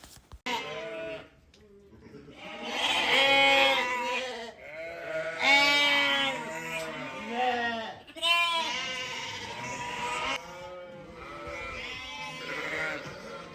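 Lambs bleating loudly and repeatedly in a farm yard during vaccination, several overlapping wavering calls close by with only brief pauses between them.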